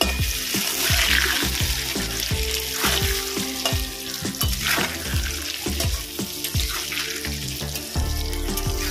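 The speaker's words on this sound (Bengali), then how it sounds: "কচুটা ভালো করে ভেজে নেব।" Taro pieces frying in hot oil with salt and turmeric, a loud crackling sizzle broken by frequent spoon stirs and scrapes against the pan, close up and continuous, without speech.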